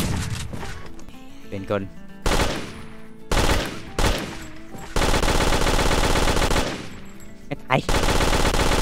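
Machine gun fire against zombies in the game Drive 4 Survival, loud rapid bursts that start and stop, with a long sustained stretch, while someone talks excitedly in Thai between and over the shots.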